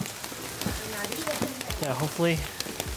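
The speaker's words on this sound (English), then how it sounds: "even though it's raining like crazy." Heavy rain pours steadily on a forested hiking trail at Fushimi Inari Taisha in Kyoto, a dense close hiss with patters, while hikers talk briefly over it.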